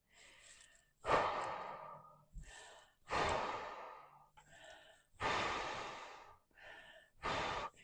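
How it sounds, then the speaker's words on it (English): Deep breathing: a person takes several slow, loud breaths close by, each long inhale and exhale rushing out like a heavy sigh in a steady rhythm, with no talk. "Take 5 deep breaths."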